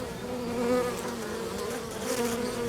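Honeybees buzz steadily at a hive entrance after an orientation flight, a dense, continuous droning hum from many insects close by, with no talk over it.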